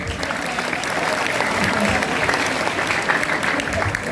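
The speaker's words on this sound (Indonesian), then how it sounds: "Tepuk tangan dulu dong" Loud, dense applause from a large crowd at a school Maulid Nabi celebration, sustained and even throughout with no pauses.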